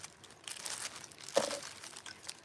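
Textile foil is slowly peeled off a baseball cap, giving soft close crinkles and faint tearing rustles with one sharper crackle midway, quiet and without talking.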